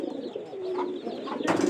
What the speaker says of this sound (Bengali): এখন বর্তমানে মনে করেন যে এই কটা কবুতরই আছে।